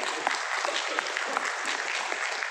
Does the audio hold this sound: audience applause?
yes